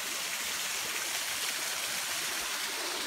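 A tiny waterfall beside a trail gives a steady, close hiss of splashing, trickling water with no pauses or voices.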